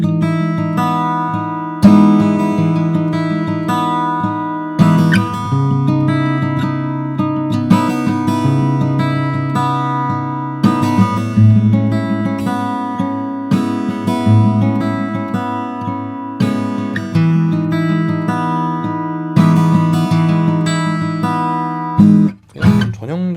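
A small OM-body acoustic guitar with aged, humid strings is strummed and picked in a sustained, chordal passage, loud and close, played alone without voices and ending with a brief dip.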